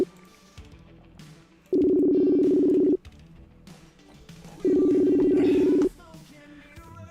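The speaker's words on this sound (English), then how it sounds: "Pick up that phone." An outgoing phone call rings twice with long, steady purring tones separated by a pause, while low room noise and faint movement continue in between.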